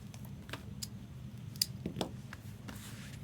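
Tape being pulled and torn off a trading card box, a few quiet crackling rips and sticky peeling sounds, close and brief in a quiet room.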